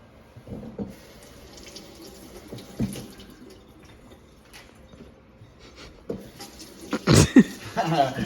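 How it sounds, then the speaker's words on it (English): Fresh vegetables are rinsed under a running kitchen tap, with a low steady water hiss, scattered splashes and louder sloshing near the end, while a person talks over it. "we gotta make sure we wash our fresh vegetables"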